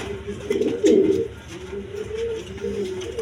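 A matched pair of pigeons, male and female, gives a deep rolling coo nearby, loudest early on and then tapering into softer murmurs, with no speech.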